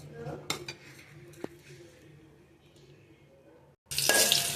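Onions going into oil in a cooking pot for a sprouted moth bean curry: clinks and scrapes of utensils and dishes, then a loud, bright sizzle bursting up close in the final half second.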